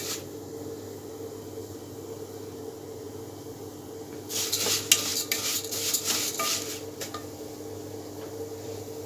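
Rice is tipped into a pot of browned vermicelli and stirred. After a quiet stretch a short burst of scraping, rattling and metallic clinks comes mid-way, then fades back to near silence.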